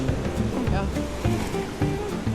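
Rushing water of the Arkansas River through Brown's Canyon in early June flows with a steady, loud churning wash, with a voice talking over it throughout.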